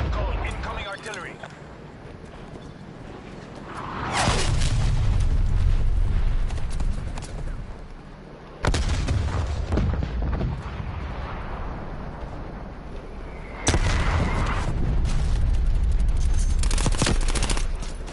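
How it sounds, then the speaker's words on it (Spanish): Incoming artillery shells land in a Cold War strategy video game, producing three loud booming impacts that each roll into long, dense rumbling and crackling, while a game voice and a player speak over the din. "Artillery targeting detected. Defco, incoming artillery."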